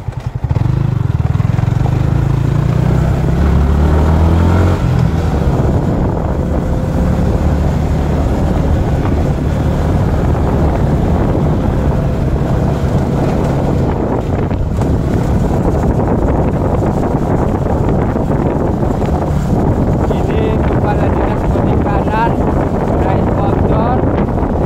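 Motorcycle riding along a provincial road in Aceh Selatan, Indonesia, with a steady engine drone and heavy wind buffeting the microphone throughout, loud and continuous.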